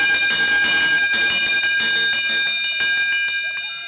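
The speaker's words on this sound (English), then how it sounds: "Coming out of this corner, we are going to hear the bell for the final lap." A loud bell clangs rapidly and continuously, ringing out the final lap at a US championship race, bright and sustained over crowd noise.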